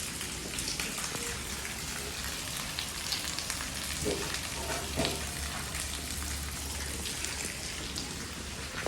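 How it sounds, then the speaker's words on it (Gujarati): Rain falls steadily, a soft continuous hiss of drops with occasional louder patters, no voices. "આજ તો આવ્યો છે વરસાદ"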